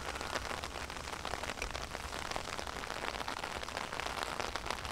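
Heavy tropical rain pours down steadily, a dense close hiss of drops striking surfaces with no pauses and no voices.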